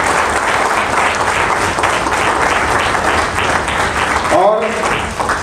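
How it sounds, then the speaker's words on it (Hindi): Loud, dense audience applause at an event rolls on continuously, with a brief voice and clatter near the end briefly poking through the clapping. "मैं कहूँगा एक बार जोरदार तरीके से तालियां होनी सर के लिए।"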